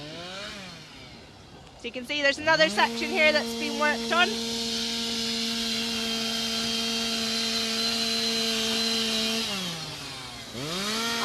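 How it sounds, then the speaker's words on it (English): A chainsaw revs up and runs steadily while cutting through thick, long-grown hedge during hedgelaying, loud and close, with someone talking over the start before the engine settles into a sustained drone and then winds down. "It might get quite noisy because Simon's down here with his chainsaw."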